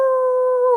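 A voice imitates a wolf howling at the moon, producing one sustained, steady, tonal howl up close and loud, lasting under a second.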